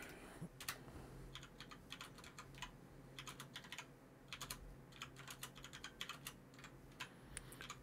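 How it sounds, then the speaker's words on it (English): Keystrokes on a computer keyboard recorded through an NZXT Capsule cardioid USB microphone on its stand, quiet rapid clusters of clicks in irregular bursts with short pauses, close to the mic, no talking. "what I'm going to do now is do a little bit of typing again"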